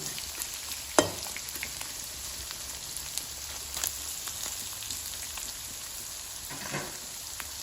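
Pork stir-frying in a lot of oil for Thai salted roasted pork, a faint, steady sizzle with occasional crisp pops and spatula scrapes.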